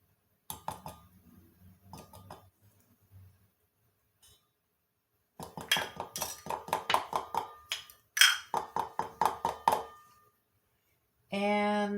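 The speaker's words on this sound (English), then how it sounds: "And we're going to stir this around." Pancake batter with cinnamon, vanilla and melted butter is stirred in a bowl, heard as quick rhythmic clinks and scrapes of a utensil in bursts separated by short pauses, close and fairly quiet.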